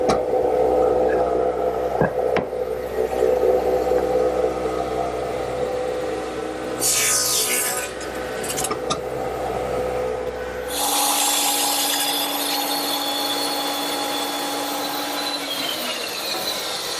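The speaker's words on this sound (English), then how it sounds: "swing my radial arm to 7 1/2 degrees on the other side of zero" A radial arm saw swung to an angle cuts wood: a steady motor whine runs throughout, with a brief higher burst of blade-in-wood cutting midway, then the motor tone changes as it winds down, with no talk.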